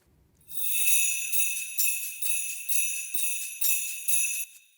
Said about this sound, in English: Then the slate bells and shakers.